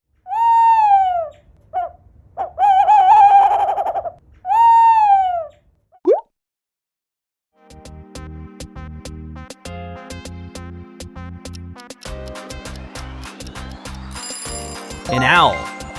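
An owl call in the opening seconds: several clear hooting notes, some wavering, each separated by short gaps. After a pause a busy run of other tones and ringing sounds follows.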